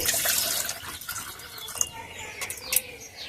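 Rice-washing water poured into a potted strawberry plant, a soft continuous splashing trickle heard close with a few brighter drips and birds faintly in the background.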